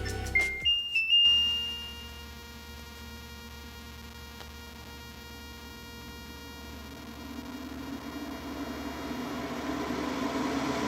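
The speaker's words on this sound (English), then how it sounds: "I'm going to be turning on the fan at level 10" An LG PuriCare AeroTower purifying fan switches on at level 10 after a few short beeps, then settles into a soft steady whirring hum that slowly swells a little louder, heard alone.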